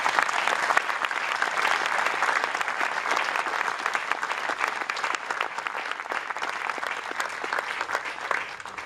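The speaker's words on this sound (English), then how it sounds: "Please, if you could, a round of applause for our Gold Star families." Sustained, full audience applause for Gold Star families at an evening military band event, dense and even for nearly nine seconds with no break.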